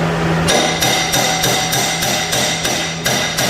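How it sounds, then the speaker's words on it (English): A hammer strikes a Toro Timemaster mower spindle about ten times in a quick, even rhythm, knocking the blade loose with sharp, close metallic taps that continue without pause. "Sometimes it doesn't come out very easily, so you might give it a couple taps."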